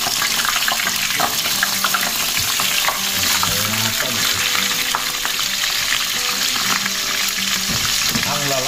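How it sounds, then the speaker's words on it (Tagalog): Pompano steaks frying in hot oil in a wok, a loud, steady sizzle with occasional crackles and a faint clink of utensils, no talking. "Tapos nagsalang na tayo dito ng kawali. Painitin lang natin. Mainit na yung ating mantika."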